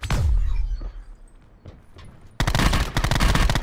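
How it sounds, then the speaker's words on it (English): Gunfire in a shooter video game: a loud shot at the start, then quieter scattered sounds, then a sudden dense burst of rapid automatic fire. "I'm about to hop up top and shoot him"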